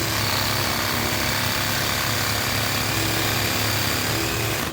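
Black & Decker power tool used for trimming trees, running loud and continuously at close range with a steady high-pitched motor whine, cutting off at the end.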